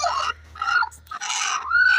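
A naked-neck hen, broody and sitting on her eggs, clucks and murmurs close by in short nasal bursts separated by brief pauses, with a faint low hum underneath.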